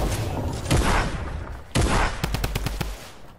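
Gunfire in a video game arena match: a few single heavy shots, then a rapid burst of automatic fire, loud and close.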